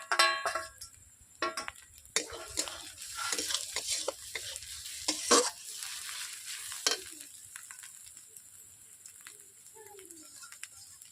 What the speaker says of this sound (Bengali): মশলাটাকে 5 মিনিট কষে নেব এইভাবে।